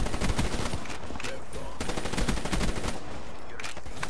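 Rapid automatic gunfire in the Black Ops 3 video game on the Nuketown map, dense bursts of shots firing almost continuously, loud and close, with a voice talking over it.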